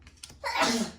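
A single close sneeze, a quick intake followed by a loud, breathy burst that fades out within a second.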